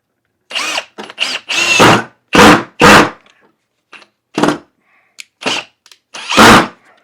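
A power drill drives a screw in a series of short, loud bursts of whirring, separated by brief silences, with no talk.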